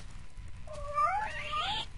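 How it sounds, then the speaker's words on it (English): A cat meows in a video game, a single drawn-out, rising and bending cry heard close and fairly loud over a low background rumble, with no talking. "right here's a kitty cat"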